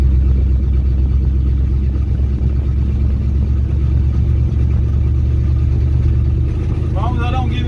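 A 1971 Dodge D100 pickup, back on the road after sitting abandoned for decades, rumbles steadily with a low, constant engine drone from inside the cab while someone talks over it.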